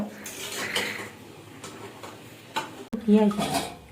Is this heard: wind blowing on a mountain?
no